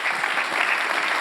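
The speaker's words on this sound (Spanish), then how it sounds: "Un fuerte aplauso para ella." Conference audience at a sustainable development gathering gives a brief burst of steady applause for a speaker, a dense even clatter of many hands heard alone.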